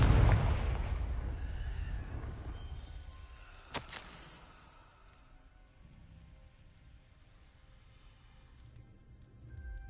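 A Confringo fire spell blast from Hogwarts Legacy: a loud, booming burst opens, then rumbles and fades into a low hiss, with one sharp crack about midway before a quieter tail.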